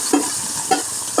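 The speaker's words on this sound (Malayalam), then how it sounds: "കടുക് പൊട്ടിയതിന് ശേഷം നമുക്ക് അതിനകത്തോട്ട് കണ്ടോ സവാളയും ഇഞ്ചി ഇട്ട് കൊടുക്കാം" Onion and ginger sizzle in hot oil with popped mustard seeds, a steady close frying hiss with a few stirring scrapes and no talking.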